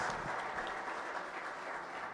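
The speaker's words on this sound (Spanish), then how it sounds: "Fuerte aplauso también para Carlos Piñero Iñiguez." A short burst of audience applause at a panel event, many hands clapping in a dense, even wash for a couple of seconds.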